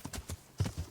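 Horse hooves clip-clop at a steady, close walking rhythm in the medieval game Kingdom Come Deliverance, with several distinct knocking steps and no other sounds.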